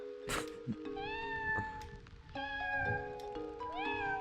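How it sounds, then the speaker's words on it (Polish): A cat in the video game Everdeep Aurora meows several times in clear, close, separate calls, some drawn out, over a faint background hum. "Mogę, mogę miauczeć?"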